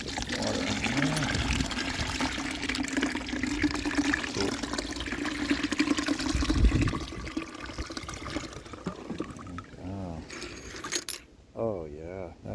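Water pours into a rock tumbler barrel holding a large hunk of obsidian, a continuous close splashing trickle with rattling and clinking of stone and grit, thinning out toward the end.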